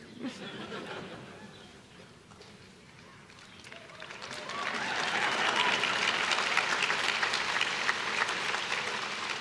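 Applause from an audience at a Harvard University speech swells after a few seconds into a steady, dense clatter of clapping that continues to the end, with faint room noise before it builds.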